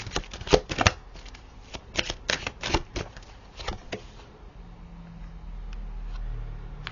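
Tarot cards riffled and shuffled in a quick burst of crisp papery flutters and slaps, then a card drawn from the deck, close and fairly loud, easing into a low rumble toward the end.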